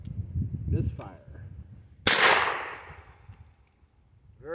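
A single sharp gunshot from a dirty old Hi-Standard Sentinel double-action revolver fired outdoors, loud and close, with a ringing decay after it; someone speaks briefly before the shot.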